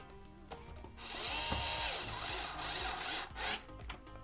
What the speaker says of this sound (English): Then you're just gonna wanna drop these 2 back screws back in.